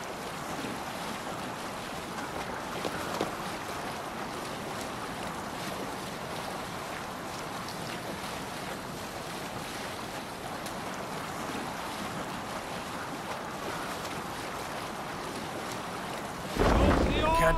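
A Viking sailing boat moves through open water in Assassin's Creed Valhalla, with a steady wash of waves and wind rushing past the hull for the full length, and a brief louder knock or splash near the end.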